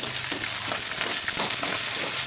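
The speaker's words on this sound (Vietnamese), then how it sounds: "Trong vai người đang chiên cá." Climbing perch fry in a pan with a loud, steady, close sizzle and fine crackling spatter throughout.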